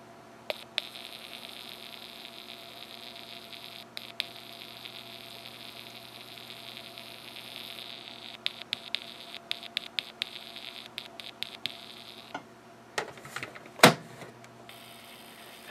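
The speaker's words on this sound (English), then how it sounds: "my body is providing an input signal to the amplifier that the amplifier is amplifying" Snap Circuits amplifier picking up a body-contact input signal, heard as a steady low mains-style hum with faint buzzing pulses and a few brief crackles near the end, no talking.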